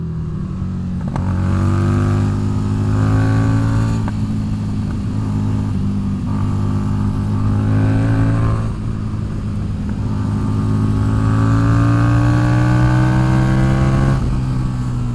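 A Harley-Davidson motorcycle engine revs out hard through the gears, each pull rising in pitch before a short break and the next climb, loud and close with no voices.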